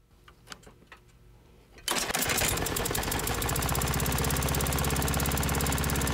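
A small engine with an exhaust fault sputters, catches and starts, then runs loud and steady with a fast, rattling putter.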